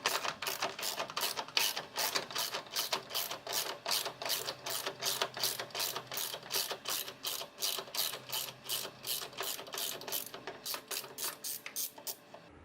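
A socket wrench ratchets steadily while unscrewing a car bulb fitting, giving a rapid, even run of close, crisp clicks for most of the stretch before the last few clicks slow and stop.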